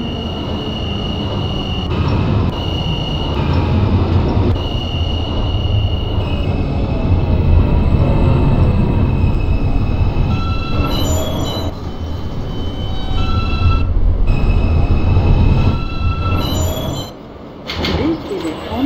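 A simulated R160A subway train on a Coney Island-bound Q local runs loud and steady in OpenBVE, with rumbling wheels, a sustained motor whine and brief squeals. It dips near the end as if stopping or doors moving.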